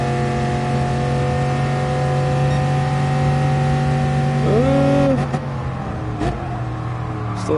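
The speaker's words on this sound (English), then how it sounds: "here comes the Lamborghini. So much quicker in a straight line" A Lamborghini race car engine in the GT Sport racing video game drones loud and steady, then its pitch swoops up and changes as it passes, with no talk over it.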